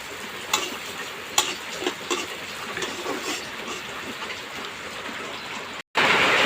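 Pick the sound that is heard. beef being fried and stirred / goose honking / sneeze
beef being fried and stirred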